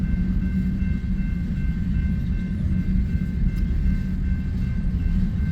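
An eastbound intermodal freight train rumbles past near Blair, Nebraska, a continuous loud low roar with steady rolling rail noise throughout.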